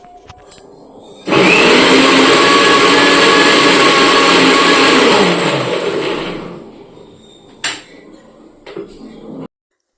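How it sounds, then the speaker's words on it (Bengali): An electric mixer grinder blends mustard, onion, ginger and garlic in a home kitchen, a loud continuous whirring roar for about five seconds that winds down, followed by a few clunks. "সর্ষে পেঁয়াজ আদা রসুন সব কিছু মিলিয়ে মিক্সিতে মিক্স করে নিব"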